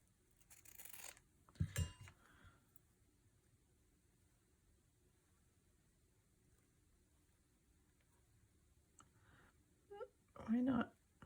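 Scissors cutting white fabric in a slow-stitch embellishment craft session, heard as a couple of brief close snips near the start and a short crisp cutting burst at the end, separated by quiet stretches.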